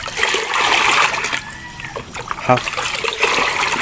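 Fertilizer dissolved in water is poured onto grapevines in short bursts of splashing and trickling, broken by brief gaps, while someone talks in Tagalog throughout.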